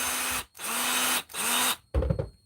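A Hart 20V two-speed cordless drill runs in three loud, close bursts of high motor whine, each spinning up, holding and cutting off, followed by a short clattering rattle.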